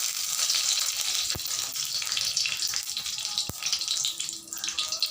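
Dry red chillies fry in hot oil with a steady, close crackling sizzle, and a couple of sharp pops break through the hiss.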